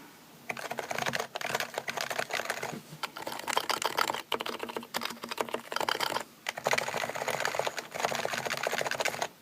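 Fast, steady typing on an HHKB Topre keyboard fitted with Type S internal dampers, dense muted keystrokes in long runs broken by brief pauses, close and fairly quiet.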